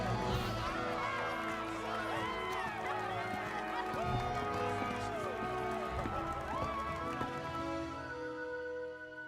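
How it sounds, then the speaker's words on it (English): A game crowd clapping and cheering during the Dragon's Dogma 2 credits, a steady dense wash of applause with scattered voices that fades slightly near the end. "We have many people clapping for us."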